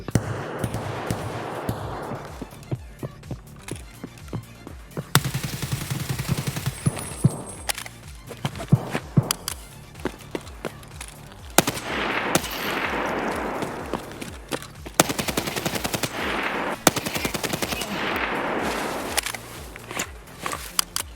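Rapid bursts of SA58 rifle fire in Escape from Tarkov, sharp cracks and volleys recurring through the fight alongside footsteps and other distant shooting.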